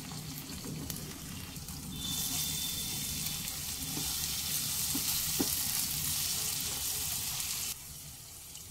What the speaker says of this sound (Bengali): মিডিয়াম ফ্লেমে মশলাটাকে 3 থেকে 4 মিনিট খুব ভালোভাবে কষিয়ে নিতে হবে।